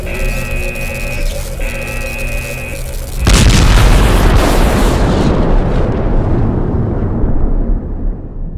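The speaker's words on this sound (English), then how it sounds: "You've destabilized the energy core. It's overcharging. Let's get the hell out of here. This thing is going to explode." An overcharged energy core explodes in the PC game Last Days of Lazarus, a sudden loud boom after a few seconds of humming tones, followed by a long rumbling decay that fades out.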